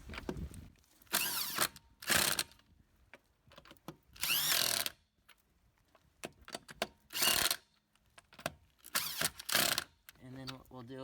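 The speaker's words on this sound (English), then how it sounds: "And we'll zap them with the gun." Impact gun running axle bolts on a 2001–2007 Dodge Grand Caravan during CV axle repair: repeated loud bursts of pneumatic whirring and hammering, each about a second long, separated by pauses, with someone talking between bursts.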